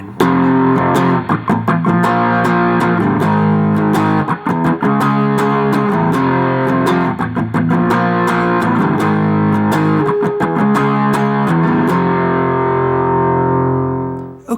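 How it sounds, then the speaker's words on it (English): Distorted electric guitar plays the main riff of a song slowly, with loud driven power chords and palm-muted scratches in a steady rhythm, ringing out at the end with no talking. "getting started learning this main riff that you hear in the beginning of the tune and also in the chorus section."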